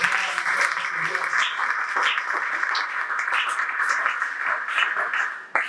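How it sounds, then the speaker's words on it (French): A church congregation applauding and cheering loudly during a French-language sermon, a dense continuous wash of clapping and voices for the whole stretch, fading slightly at the end. "Acclame d'abord très fort pour lui."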